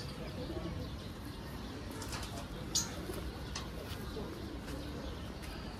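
An army pigeon gives soft, low coos, close by and fairly faint, while someone talks over it.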